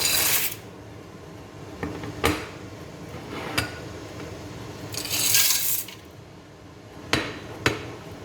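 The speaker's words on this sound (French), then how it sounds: "Je vais mettre les pâtes." Dry pasta for a cold tuna pasta salad going into a pot of boiling water: a handful of sharp clinks and rattles against the pot, with brief louder rushes of sliding pasta between quieter bubbling.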